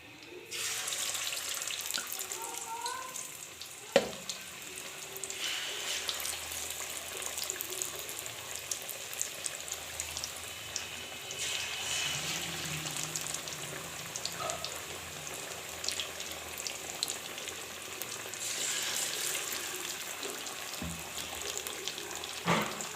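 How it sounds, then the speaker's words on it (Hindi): Fish fries gently over a low flame, giving a steady, soft sizzle with faint hiss and occasional crackles throughout, close by and alone with no talk. "इनको भी हल्की आंच पे फ्राई करेंगे।"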